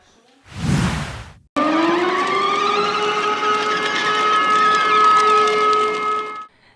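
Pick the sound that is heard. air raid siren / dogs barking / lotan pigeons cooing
air raid siren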